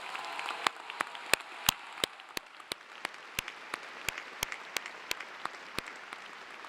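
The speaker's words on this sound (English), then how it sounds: "I think you all deserve a very loud round of applause." Applause at a university commencement ceremony, sparse and fairly faint, with a steady patter of individual sharp claps spaced out across several seconds rather than a dense roar.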